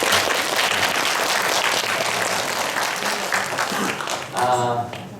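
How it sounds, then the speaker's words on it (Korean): A church congregation claps in thanks after a piano donation, a steady round of applause that tapers off as a voice begins speaking near the end. "너무 감사하다고 박수 한번 해주셨습니다"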